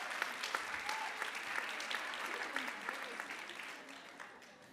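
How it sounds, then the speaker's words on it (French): Applause from the audience at a French paediatric pain conference plenary session, with a sustained, moderately distant patter of many hands clapping. Scattered louder individual claps stand out, and the sound fades gradually. "On peut l'applaudir bien fort."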